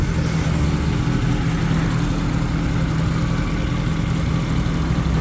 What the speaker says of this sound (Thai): ให้เปิดเครื่องยนต์ให้ดูนะครับ เนี่ยเครื่องยนต์พันสาม